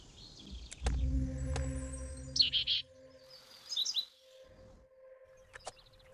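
Birds in the video game The Legacy 3 give a few short, bright chirps in two brief bursts, set against low rumbling game sounds and sparse clicks, with no voices.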